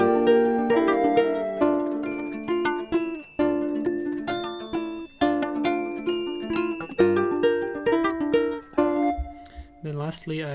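A stack of synth chord layers in FL Studio with heavy detune gives a wobbly, vibrato-laden sample, playing a bright chord progression with sharp note attacks and repeated phrases, loud and alone without talk.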